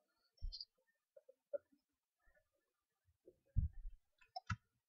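Computer mouse clicks, a few sparse, quiet, sharp clicks scattered irregularly with silence between them.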